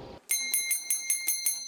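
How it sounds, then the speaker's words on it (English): An office bell at a telecom company rings out the end of the workday, a bright metallic chime struck about seven times in an even rhythm, clear and fairly close after a brief moment of murmur. "the sound of that bell signals the end of every workday before the screens go dark"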